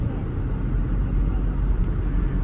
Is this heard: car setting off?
yes